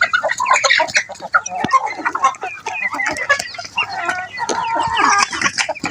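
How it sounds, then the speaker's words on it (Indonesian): A flock of free-range village chickens clucks and squawks busily up close while being fed tofu dregs, with overlapping calls and scattered pecking and shuffling sounds throughout. "Kenbin mau langsung kasih makan ayam"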